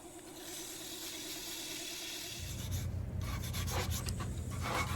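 Abrasive paper rubbing against a turned wooden post spinning on a lathe, a steady rasping hiss over the motor's low hum, which grows fuller and louder about halfway through, close and continuous with no talking.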